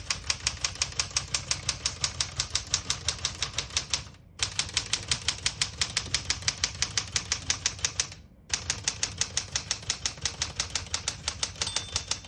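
Rapid, even keystrokes on a 1973 Galaxie 12 vintage portable typewriter, each striking a crisp clack in a steady fast rhythm. Two brief pauses split the burst into three runs. It is close and loud with no speech.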